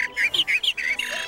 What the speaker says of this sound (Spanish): Luego soplas y resoplas y silbarás como pájaro.